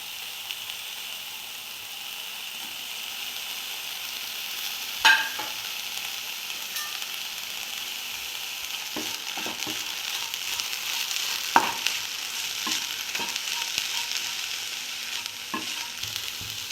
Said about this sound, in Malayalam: നമുക്ക് ഈ ചെമ്മീൻ ഒന്ന് ചൂടാക്കി എടുക്കണം